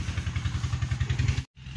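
Motorcycle engine running with a rapid, even low thump and mechanical clatter, fairly close, then cut off abruptly by a brief gap before resuming.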